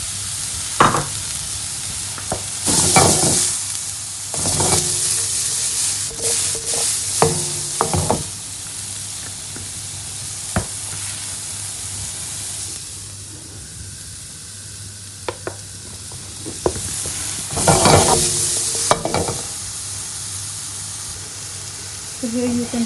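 Tomatoes frying in a pan for restaurant-style chicken jalfrezi: a steady sizzle with bursts of stirring and scraping, louder flares as the pan is worked, with a voice talking over it at times.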